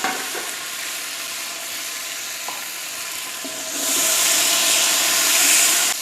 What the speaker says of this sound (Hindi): इसको हमने ज़ीरे का तड़का लगाया है